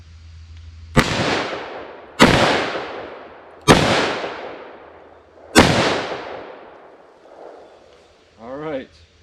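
Four loud, sharp .44 Magnum gunshots fired outdoors, each a sudden crack with a long decaying echo, spaced roughly one and a half seconds apart, followed by faint movement and a brief voice at the end.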